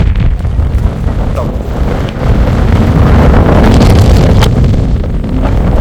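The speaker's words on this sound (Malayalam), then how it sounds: "ഭയങ്കര കാറ്റാണ്, ഭയങ്കര കാറ്റ്." Strong, constant wind roars and buffets the microphone high on Sela Pass in Arunachal, a dense low rumble with gusts that never let up.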